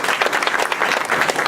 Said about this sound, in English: Then we're going to give you a round of applause.